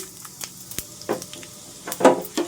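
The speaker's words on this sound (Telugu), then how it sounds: "ఇప్పుడు పోపు గింజలు వేస్తున్నాను" Mustard and other tempering seeds dropped into a cup of hot oil for a cauliflower and fresh coconut fry, giving scattered crackling sizzles and pops that build to a brighter burst near the end, with no talking.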